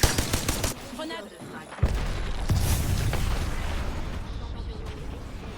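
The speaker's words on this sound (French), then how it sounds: "Grenade." Grenade blast in the shooter game Apex Legends, a sudden boom followed by sustained loud rumbling and crackling gunfire-like noise, with a player's voice around it.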